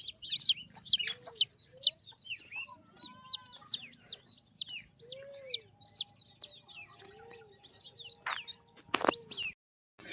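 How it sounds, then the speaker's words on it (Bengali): Chickens at a farm cluck and chirp in quick, irregular bursts close by, with a few lower drawn-out calls among them, and a brief rustle or knock near the end. "এদিকে এটা মুরগি ফার্ম লোকের"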